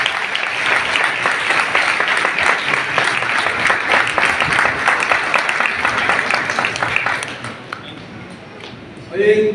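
Applause from a church congregation at a pastor's farewell program, dense rapid clapping for about seven seconds that thins out and stops, followed by a brief burst of another sound at the end.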